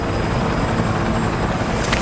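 Helicopter in Cyberpunk 2077, a loud continuous rotor and engine roar filling the short moment without any speech.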